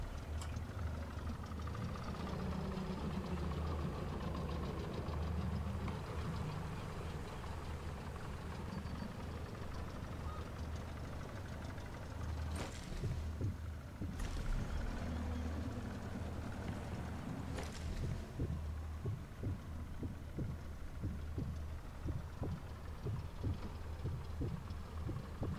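Boat engine in the Sniper Elite 4 video game, a low, steady idling drone with a knocking throb, heard faintly from a distance over quiet game ambience and a few sharp knocks.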